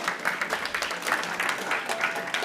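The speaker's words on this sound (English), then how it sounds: "So I'd like to give everyone a round of applause." Audience at a startup pitching grand final applauding the contestants, a continuous dense patter of many hands with faint crowd murmur underneath.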